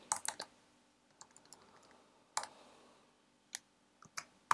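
Fingers tap on a computer keyboard, quick clusters of crisp clicks separated by short pauses, close and clear with no voices.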